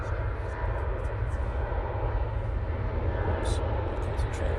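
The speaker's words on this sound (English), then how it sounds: "This is the Indigo. (787-9) Dreamliner coming in from Delhi now." An IndiGo Boeing 787-9 Dreamliner arrives at Manchester Airport, its engines giving a steady, fairly loud rumble throughout, with a few brief faint sounds over the top and no clear talk.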